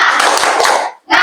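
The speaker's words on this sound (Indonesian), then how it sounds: "Sekali lagi, nak, tepuk semangat." A group of students claps together in a classroom during a religious studies lesson, a dense, steady burst of hand claps lasting about a second, a brief pause, then another burst beginning.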